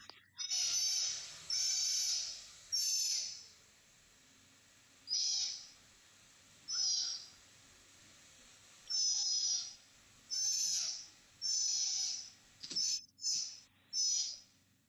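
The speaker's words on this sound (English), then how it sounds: "That was the sound of a sea otter pup" Repeated high, piercing squealing calls of a sea otter pup, each lasting about a second, spaced irregularly with quiet gaps, close and loud.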